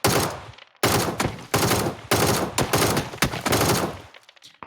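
Several loud, close bursts of video game gunfire, each a dense rattle of shots separated by short silent gaps, repeating about five times before cutting off, with no voices.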